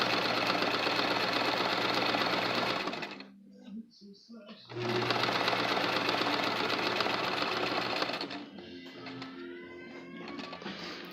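A sewing machine runs a long easing stitch with the longest stitch length and no lock stitching, humming steadily and close for several seconds, pausing briefly, then running again before slowing down.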